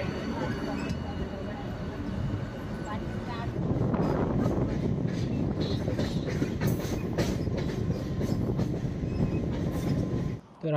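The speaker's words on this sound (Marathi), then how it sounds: "तर ट्रेन आलेली आहे आमची, पाहू शकता तुम्ही." A Karjat-bound local commuter train arrives and runs past the platform, its loud, steady rumble and rattling wheels building after a few seconds and continuing under people talking nearby.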